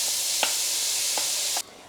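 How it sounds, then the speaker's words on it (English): Steady sizzling of garlic and zucchini frying in a hot pan, with a few soft clinks of a utensil before the hiss abruptly drops away. "my garlic has been sizzling on for a good 30 seconds"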